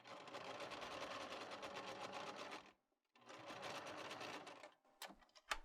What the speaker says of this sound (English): we're just going to go past that a little bit and then back tack